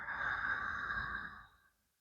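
A long, steady exhale of Ujjayi breath during yoga, a soft breathy ocean-like hiss held close to the listener that fades out over about a second and a half.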